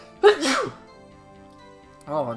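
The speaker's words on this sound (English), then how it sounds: "Oh, that's a lot of sneezes." A sharp, loud sneeze bursts out once near the start, followed by a pause and then a voice speaking close by.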